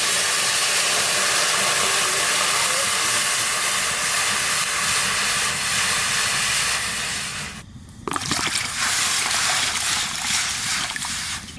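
Water heating in a pot on a stove for making milk chitoi pitha with date palm jaggery, a loud continuous steam hiss filling the whole stretch, with a brief drop about three-quarters through before the hiss resumes.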